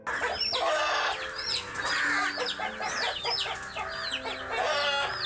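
Hens cluck busily and repeatedly, close by, with a rooster's crow mixed in among the excited farmyard calls, as a mother hen fends off a crow.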